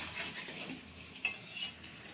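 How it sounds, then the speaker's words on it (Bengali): Mutton being sautéed and stirred in a pan, heard as quiet, steady utensil scraping over a faint sizzle with a few sharper clinks. No one speaks. "মাটন কষানো হচ্ছে আমাদের এখানে"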